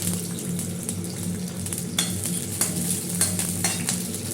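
Broken green chillies fry in hot oil, a steady sizzle with several sharp stirring scrapes and taps of a spatula against the pan, close and without talk.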